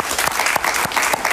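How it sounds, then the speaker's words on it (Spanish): A studio audience claps to welcome a guest, a Venezuelan doctor, onto a television interview program: a brief, dense burst of clapping with a few louder claps standing out, close and full. "Un aplauso para él,"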